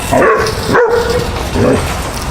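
A dog at a ranch training session barks several times in close succession, loud and near, with short gaps between the barks and some whiny yips mixed in.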